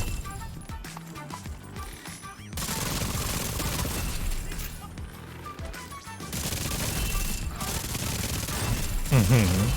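Bursts of AR rifle fire crackle in The Division 2, a shooter video game, dense and rapid like a fusillade. They play over game music and effects, steady and loud across the clip.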